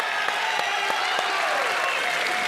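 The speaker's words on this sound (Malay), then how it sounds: "Apa kata kita berikan tepukan kepada kedua-dua YB yang hadir ini?" An audience at a Malaysian economic debate gives sustained, even applause to the two debaters, a dense wash of clapping with a few sharper claps standing out near the front.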